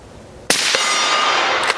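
A suppressed gunshot strikes a steel target plate, giving a single sharp metallic clang whose bright ring sustains, with a second fainter ping just after and another near the end, at moderate distance with no talk.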